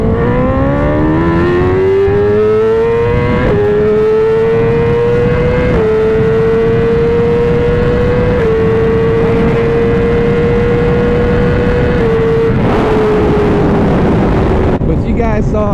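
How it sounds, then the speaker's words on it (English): A 2020 BMW S1000RR sport motorcycle engine pulls hard through second gear, one loud continuous rising howl that climbs in pitch and then holds at high revs, close and dominant throughout. "Let's do a 2nd gear pull."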